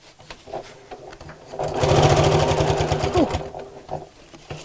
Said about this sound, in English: Then I'm going to sew over the existing stitch line here.